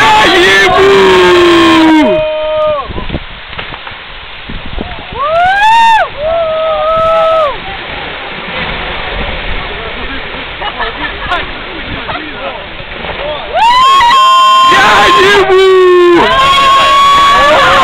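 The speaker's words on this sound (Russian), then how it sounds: "Идет волна!" Ice calving from Child's Glacier sends a wave surging through the water, a sustained broad roar of churning water, while excited shouting voices ring loudly at the start and again near the end.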